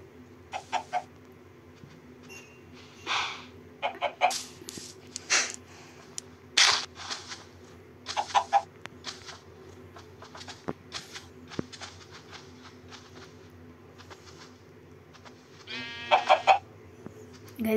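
Minecraft chicken clucks and squawks come in short bursts with pauses between them, over a steady low background hum.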